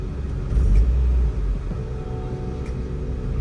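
A car fitted with a chambered muffler on a full exhaust rumbles nearby, a deep low throb that swells briefly and then settles into a steady idle.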